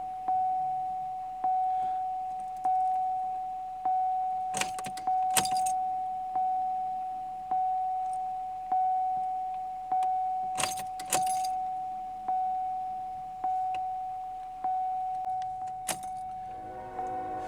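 Turning the ignition key on a Pontiac Grand Am after hooking up the fuel pump gives a steady electric whine from the priming pump, sawtooth pulses every second or so, and a few sharp metallic key jangles; no talking.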